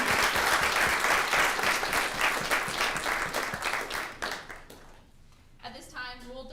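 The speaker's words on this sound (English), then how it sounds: "Can we please give a round of applause for" Audience at a Texas Tech student government senate meeting gives a round of applause, many hands clapping steadily before tapering off, then a voice speaks as the clapping dies away.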